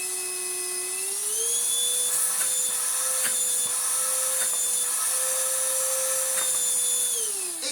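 A 24V cordless stick vacuum runs with a high, steady motor whine close by. Its pitch climbs shortly after the start, holds, then drops near the end as the power setting changes.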